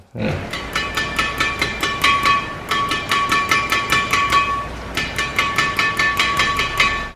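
Rapid, regular taps on taut badminton racket strings ring out with a bright, crisp ping, repeating in quick bursts with a short pause midway.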